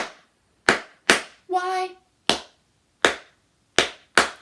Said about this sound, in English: next time we have to clap 4 times